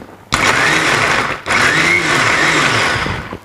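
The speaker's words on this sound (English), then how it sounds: "Put it in a blender and I'm just going to blend it." An electric blender whirs loudly as it blends momo chutney, running in two close, steady bursts with a short pause between them.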